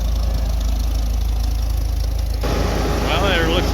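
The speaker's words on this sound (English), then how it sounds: "Got us a Super MTA. Really nice looking tractor." A Farmall Super MTA tractor idles at a parade, its engine a steady, even rumble running throughout, with a voice talking over it in the latter part.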